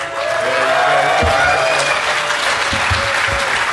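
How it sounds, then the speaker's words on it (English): A conference audience at DEF CON applauds a first-time speaker, with steady clapping from a large crowd filling the room throughout. "judging by the round of applause"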